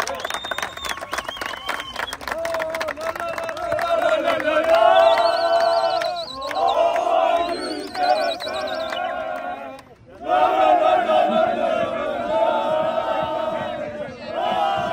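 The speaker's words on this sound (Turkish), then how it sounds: "Evet, güçlü bir alkış istiyoruz." Crowd cheering and applauding at a championship trophy ceremony, with shouts and roaring voices swelling in waves over loud music, briefly dropping away before surging back.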